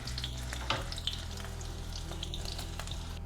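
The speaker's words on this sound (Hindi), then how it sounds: "इतने तक ही फ्राई करेंगे पनीर को।" Paneer cubes sizzle steadily as they fry to a light golden colour in a pan for a no-onion, no-garlic veg biryani, with a continuous close hiss and occasional faint stirring clinks.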